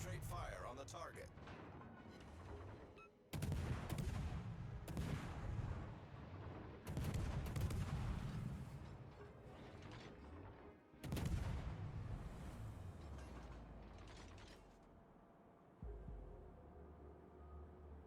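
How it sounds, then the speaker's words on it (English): Heavy naval gunfire from a German Z-42 destroyer in World of Warships, loud booming salvos repeating every few seconds over a constant rumbling battle backdrop. "All stations, concentrate fire on the target."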